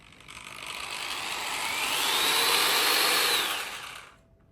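A VEVOR handheld mixer drill with a D-shaped rear handle runs steadily at variable speed, its motor whine rising in pitch and loudness midway, holding high, then cutting off near the end.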